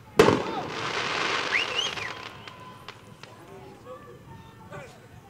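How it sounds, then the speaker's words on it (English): Fireworks burst beyond right field at a youth Babe Ruth League baseball game at Bullens Field, opening with a sharp loud bang followed by crackling and a fading rumble, with crowd noise and voices underneath. "Fireworks out in right field."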